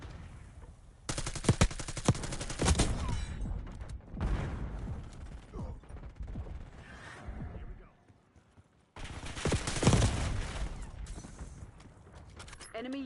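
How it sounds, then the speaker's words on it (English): Sniper gunfire rings out in a video game, with loud, close shots and mechanical clatter in bursts over busy game noise, pausing briefly before resuming, while voices talk throughout. "Snipers firing!"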